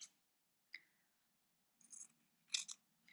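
Scissors snip through a fabric strip cut for a recycled rag rug, a few quiet, separate crisp cuts spaced out over a few seconds, close by and with no talking.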